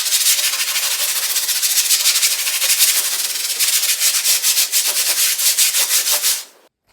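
Scotch-Brite rubbing compound is worked over the finish of an Epiphone ES-355 guitar, a 1959 reissue, making a loud, close, rhythmic back-and-forth scrubbing that stops abruptly near the end.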